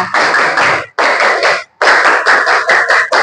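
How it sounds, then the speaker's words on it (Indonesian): Schoolchildren in an Indonesian classroom perform the tepuk pramuka Scout clap, a loud, close chorus of unison claps in patterned bursts separated by short pauses, ending in a quicker run of claps. "tepuk pramukanya ya. Tepuk pramuka"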